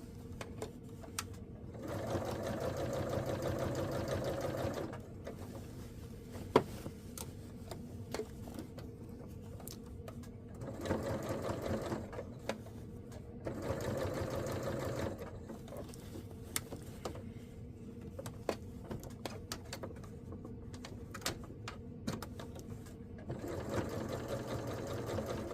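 A sewing machine stitches garment facings together for a Vogue 9292 pattern, running in several rapid whirring bursts separated by short pauses and clicks.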